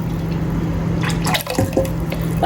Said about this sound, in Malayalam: ഇനി പരിപ്പ് വെള്ളം ഒഴിച്ചെടുക്കാം